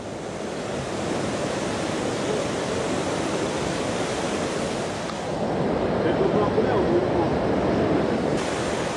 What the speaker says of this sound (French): la rivière est magnifique